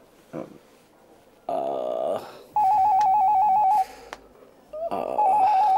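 A telephone rings indoors with a loud, warbling electronic ringtone in repeated bursts separated by brief pauses, with faint background sounds between rings.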